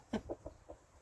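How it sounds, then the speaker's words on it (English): A cockerel gives four short, quiet clucks in quick succession, close by with faint background. "What are you doing, Cockerel?"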